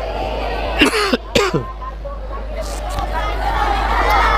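A couple of short, harsh coughs from a preacher nearby amid a murmuring crowd at a religious lecture, followed by continuing background chatter.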